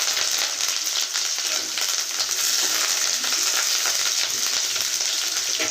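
Onion pieces and curry leaves fry in hot oil, a loud, dense, continuous sizzle close by with faint stirring scrapes and no talking.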